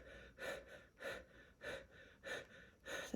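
Pranayama breath of fire, six rhythmic forceful breaths about half a second apart, close and steady with clear pauses between each exhalation.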